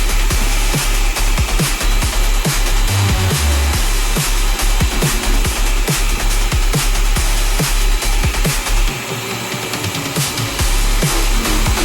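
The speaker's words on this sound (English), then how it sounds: "I drill my first hole straight through the previous hole I drilled through the sheet of G10" A power drill bores a hole straight through a sheet of G10 fiberglass laminate, a loud continuous grinding whir with rhythmic bursts of chatter as the bit bites, close by and alone, briefly easing near the end.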